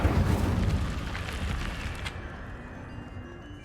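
Incendio fire spell cast in Hogwarts Legacy, a loud whooshing burst of flame that roars at once and then slowly fades into a dull rumble.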